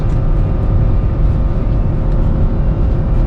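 A car's engine held at around 4,500 RPM on a dyno while stuck in fifth gear, a loud, steady low drone with a constant pitch and no talk over it.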